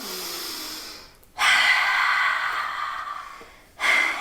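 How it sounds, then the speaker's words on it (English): Deep belly breaths during a core exercise, long close airy exhalations, one sustained breath followed by another starting, with no talk over them. "Deep belly breath. Deep belly breath down low."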